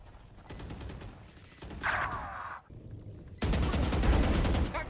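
Bursts of gunfire from a Valorant match, loud and sharp in clusters with a heavy volley near the end, mixed with in-game effects.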